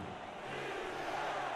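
A football stadium crowd in Raleigh roars on its feet during a third down, a dense, faint wash of cheering voices with no single sound standing out.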